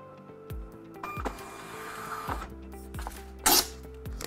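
A label printer prints product labels sent from Odoo, giving a mechanical whir with a series of soft thumps and clicks about every second as each label feeds, plus one brief louder burst near the end.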